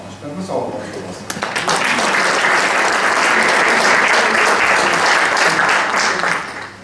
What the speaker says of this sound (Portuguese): Portanto, uma salva de palmas para vocês